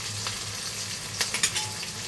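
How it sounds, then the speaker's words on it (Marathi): Onion and capsicum cook in a pan for a prawn chilli dish, giving a steady broadband sizzle with a few sharper stirring clicks and scrapes near the middle; no voices. "कांदा आणि शिमला आपण मस्त अशी शिजून घेऊया"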